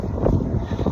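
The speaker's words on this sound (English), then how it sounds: "it's very windy out here" Strong wind blows outdoors, buffeting the microphone with a steady, loud, low rumbling roar throughout.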